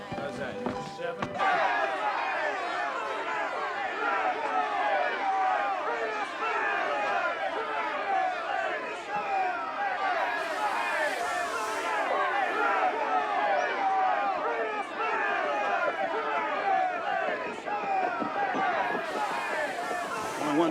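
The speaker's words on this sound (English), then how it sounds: "Only one thing in that courthouse draw a crowd like this" A large crowd murmurs and chatters outside a frontier Kansas courthouse ahead of a runaway slave trial, a dense steady babble of many voices with occasional shouts throughout.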